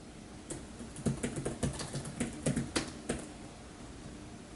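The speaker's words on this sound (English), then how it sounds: "You're going to hear me typing on my iPad while I see if this tells me anything." Quick bursts of light, tapping keystrokes on an iPad touchscreen, irregular clusters with brief pauses, close and fairly faint against a low room hiss, no voice.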